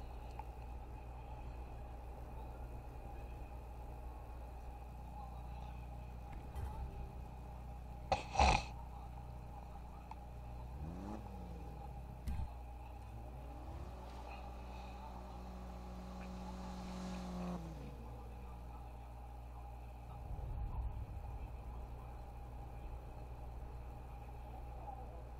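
A tuned Dodge Viper revs in the Need for Speed 2015 video game, a quiet idle rising into a couple of distinct revs with rising and falling pitch sweeps, with a sharp click and faint music in the background.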